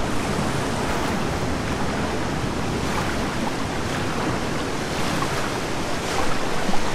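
Continuous watery rushing and surf-like wash from swimming through water in The Solus Project video game, a steady broadband churn with no voices.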